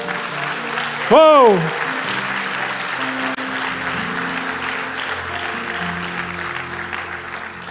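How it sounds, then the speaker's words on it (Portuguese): Church congregation applauding Jesus during a worship service, a steady wash of clapping filling the room for several seconds after a brief loud exclamation from a voice. "Quantos podem aplaudir a Jesus?"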